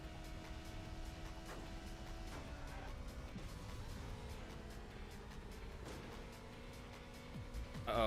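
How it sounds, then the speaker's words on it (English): Racing cars approach from behind in the Hot Wheels Ultimate Racing video game, engine whines sliding in pitch as they pass, with sharp knocks and clatters over a constant game soundtrack. "Uh-oh, I hear cars behind me."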